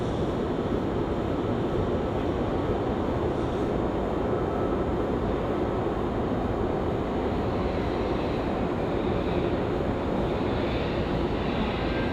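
Airliner at Raleigh Durham International Airport, its engine roar a steady, loud broadband rumble that holds throughout without a break, close by and with no talk over it.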